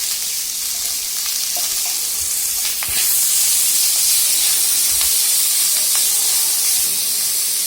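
Onions and long-cut broad beans (avarakkai) sizzle and hiss steadily in a hot pan for avarakai rice, with a few faint clicks of stirring over the constant frying noise.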